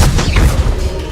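Confringo explosive spell from the Hogwarts Legacy video game: a single loud, close booming blast with a dense rumbling roar that fills the short moment without fading.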